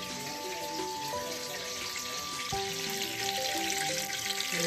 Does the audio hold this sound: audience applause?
no